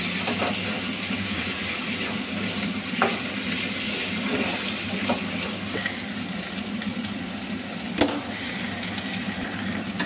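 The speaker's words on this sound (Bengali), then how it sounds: "এবার আমি টমেটোগুলো দিয়ে দিচ্ছি" Tomatoes cook with ginger paste in a pan for a chicken dish, giving a continuous close sizzle with occasional scrapes and taps of a spoon, steady throughout and free of talking.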